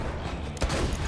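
A sudden burst of enemy gunfire in the video game Borderlands 2 cuts through busy game noise, one sharp loud shot impact followed by continued rattling.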